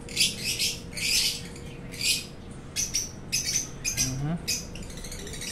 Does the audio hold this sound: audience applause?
no